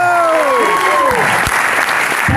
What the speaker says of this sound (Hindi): ये पहली बार आपके लिए 500 लोग ताली मार रहा है।